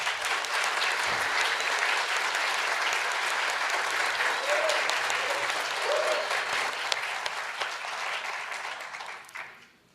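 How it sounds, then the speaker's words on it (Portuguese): A hall audience at a medical talk claps steadily for an academic department, dense even applause that holds throughout before thinning and dying away at the very end. "Eu queria pedir um aplauso especial para eles."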